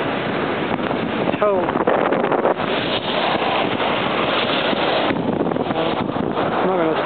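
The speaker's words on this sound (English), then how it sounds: "It's very, very rainy, very," Strong wind roars and buffets the microphone nonstop in heavy rain at Carter Bar on the English–Scottish border, with a voice speaking briefly beneath the rushing gusts.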